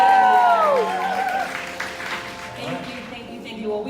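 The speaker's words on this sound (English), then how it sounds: "Please give her a round of applause." Audience applause at the inaugural Green Lit ATL event in Atlanta, a steady wash of clapping that holds fairly even for about four seconds, with a brief tonal voice-like sweep near the start.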